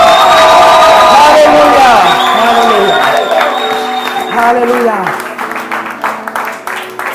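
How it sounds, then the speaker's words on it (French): Church congregation applauding and cheering during a worship service, loud crowd noise that fades over several seconds while a voice keeps talking over it. "tu applaudis le Seigneur bien fort"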